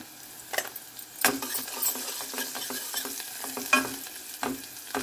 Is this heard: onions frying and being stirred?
yes